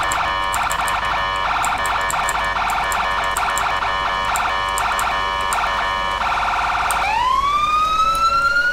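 Ambulance siren from EmergeNYC emergency-response game traffic, a loud steady wail with rapid pulsing yelp that shifts to a long rising sweep near the end, continuous and close with no voices.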